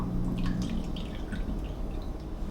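Water poured from a cup into a bread machine pan, heard as soft dripping and trickling splashes at close range, fairly quiet, with no talking.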